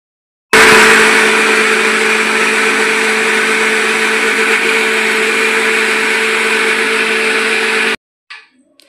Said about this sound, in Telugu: ఇప్పుడు మిక్సీ పట్టుకుందాం.